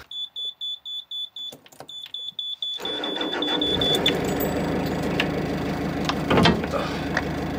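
A narrowboat engine starts after a rapid series of warning beeps, then settles into a steady, fairly loud diesel rumble that runs on continuously.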